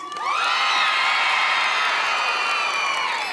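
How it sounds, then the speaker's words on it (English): Large audience cheering, shouting and whooping at a conference opening session in a big hall, a loud sustained roar of many voices that swells quickly and holds for several seconds. "I just had to make sure that that was you guys cheering over there."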